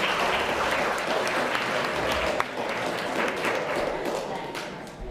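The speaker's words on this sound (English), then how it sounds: "One more round of applause for our panel." An audience at a Michigan State Capitol event applauds a panel, sustained loud clapping throughout with a few sharper claps standing out, continuing to the end.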